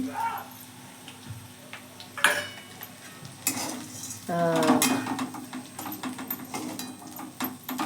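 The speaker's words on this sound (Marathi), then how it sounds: "पहा याच्यात टाकले शेंगदाणे" Peanuts tipped into a pan and stirred with a utensil in a home kitchen, giving scraping, clattering strokes at close range, with speech and other kitchen noise around them.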